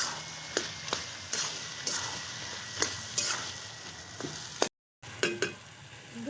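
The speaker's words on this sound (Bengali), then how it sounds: "এখানে ভেজে রাখা আলু মাছের মাথা সব দিয়ে দেব ভালো করে কষাবো" Fried potatoes and a rohu fish head are sautéed together in a pan, giving a soft close sizzle broken by regular knocks and scrapes of a spatula, with a brief dropout of silence near the end.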